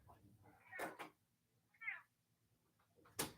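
A house cat gives a short, fairly faint meow indoors, with a few sharp knocks or clicks before and after it in an otherwise quiet room.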